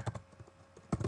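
Typing an article description on a computer keyboard, with a quick run of soft key taps, a short pause, then another brief flurry of close clicks.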